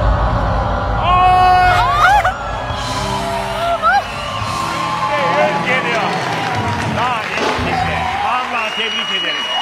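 A studio audience on a Turkish wheel-of-fortune game show claps and whoops in bursts, with a host talking loudly over and between the applause.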